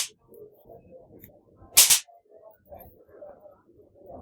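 A firecracker bomb bursting once: a single sharp, loud bang that cuts through an otherwise quiet scene with faint background shuffling.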